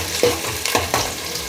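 Shallots, onions and garlic sautéing in a pan with mustard seeds and fenugreek, a soft steady sizzle with a few brief stirring scrapes, close and short.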